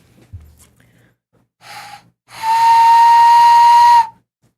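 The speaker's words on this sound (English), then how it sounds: "I can whistle with my hands." Someone whistles through cupped hands, first a short breathy toot and then one long, steady, hollow note with airy hiss around it, loud and close in an otherwise quiet room.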